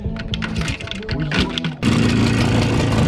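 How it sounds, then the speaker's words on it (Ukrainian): A JAWA 350 motorcycle in rough, neglected condition is kicked over by hand, giving a stretch of uneven clattering and sputtering before the engine catches and settles into a loud, steady, dense running roar. "Ява заводиться з руки."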